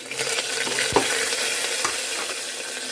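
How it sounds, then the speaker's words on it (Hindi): Onions fry in hot oil with a dense, continuous sizzle, loud and close, with a soft knock partway through and no talking. "तेल हो गया है, उसी के अंदर हम प्याज डाल देते हैं"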